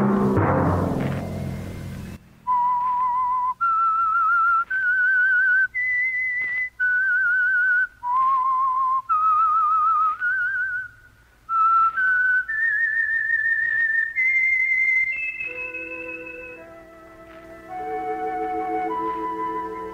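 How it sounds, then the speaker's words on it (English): A whistled melody, the signal tune of The Whistler radio show, rings out alone as a clear solo line of sustained notes that rise and fall in a steady tune, following a brief burst of noise at the start. "Let that whistle be your signal for the Whistler"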